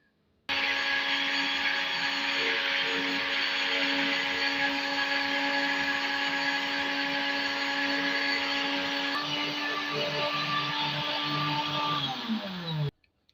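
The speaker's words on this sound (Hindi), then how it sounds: "तो चीनी ऐड करने के बाद हम इसको ब्लेंड कर लेंगे।" A kitchen blender whirs loudly and steadily as it grinds ajwain with sugar, running continuously for about twelve seconds before winding down and stopping, with no voices.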